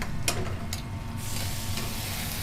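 Steady sizzling of fresh chicken frying in a hot pan for a chicken and spinach balti in a restaurant kitchen, continuous and close, with a couple of brief scraping stirs early on.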